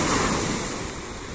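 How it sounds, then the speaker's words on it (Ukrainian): Heavy ocean surf roars against rocky shore stones in a loud, steady, broadband rumble with wind noise on the microphone and no voices. "Шумить океан дуже сильно, тут прямо гул такий стоїть."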